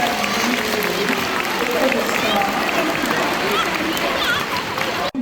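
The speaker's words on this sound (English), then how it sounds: "Give them both a big round of applause." Steady audience applause at a sea lion show at Knowsley Safari Park, continuous dense clapping from a large outdoor crowd that holds at an even level before stopping abruptly at the end.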